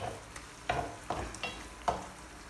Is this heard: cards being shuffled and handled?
no